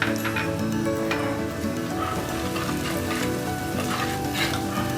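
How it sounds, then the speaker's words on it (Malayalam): Onion, green chili and garlic sizzle steadily in oil in a pan for a fish curry, a close, dense, continuous crackle with no speech. "ഉള്ളിയും പച്ചമുളകും വെളുത്തുള്ളിയും എല്ലാം നന്നായി മൂത്ത് വന്നിട്ടുണ്ട്."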